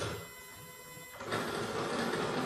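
A Techlink machine starts up to work on a celebration card design, its mechanical whir rising partway through and then holding as a steady, fairly close running hum.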